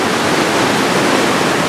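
The East Fork River rushes past close by, a loud, dense, unbroken roar of flowing water with no voices.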